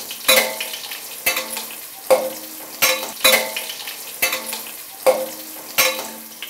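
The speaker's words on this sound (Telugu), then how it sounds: "సో బాగా దోరగా వేగాయి కాబట్టి నేను ఉల్లిగడ్డలు వేసేసాను." Onions frying in hot oil for a Nellore-style fish curry, a loud steady sizzle punctuated by about eight regular scraping stirs of a spoon against the pan, close and with no talk.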